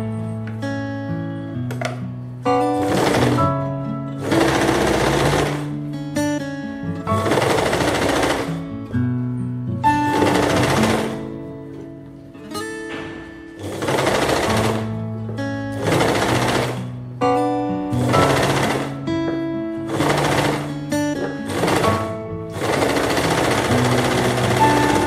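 A sewing machine stitches along the edge of a frock in repeated bursts of rapid, close mechanical clatter, separated by short pauses.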